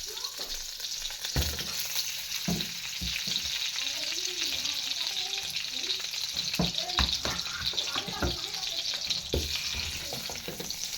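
Desi ghee heating in a pan, a soft steady sizzle with faint crackles and occasional clinks of a utensil, heard near and fairly quiet while someone speaks.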